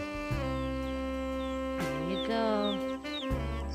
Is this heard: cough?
no